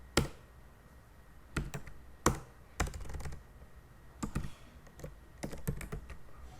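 Computer keyboard typing while entering code, with scattered bursts of sharp key clicks in irregular clusters, close and moderately loud, with no talk.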